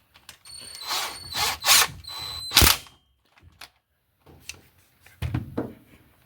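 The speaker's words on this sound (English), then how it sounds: "You're going to take and bolt your rocker arm back down." A power tool runs in several short bursts, near and fairly loud, while a rocker arm is bolted back down on a small-block engine fitted with big-block rocker arms. Quiet gaps and faint clicks fall between the bursts.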